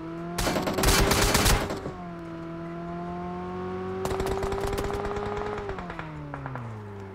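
PUBG Mobile gunfire crackles in two rapid automatic bursts, each lasting a second or more with a pause between, over a steady engine-like hum in the mobile battle game.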